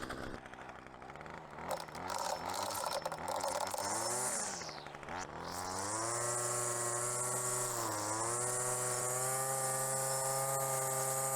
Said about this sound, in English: I just need to do some trimming